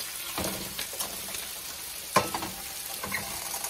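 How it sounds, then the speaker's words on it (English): Bacon fries in a pan with a steady, moderate sizzle and crackle. A few louder pops and clatters from handling the pan break through, and no one speaks. "So first we're getting our bacon fried."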